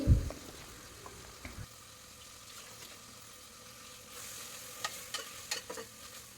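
Ground biryani masala goes into a hot pan of oil with a short, loud splash, then settles into a soft, steady sizzle, with occasional spoon scrapes and light clinks near the end.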